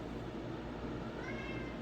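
A pet cat meows indoors, a short, faint cry heard alone against quiet room noise.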